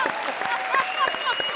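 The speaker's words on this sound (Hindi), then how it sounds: "जोरदार तालियां।" Brief burst of loud audience applause on an Indian comedy show stage, rapid dense clapping with a few distinct sharp claps and voices cheering under it.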